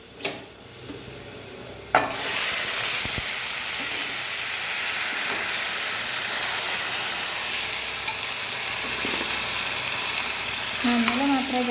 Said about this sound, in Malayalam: വറുത്ത് നല്ല പൊട്ടി വരുന്ന സമയത്ത് ഓഫാക്കുക സ്റ്റൗ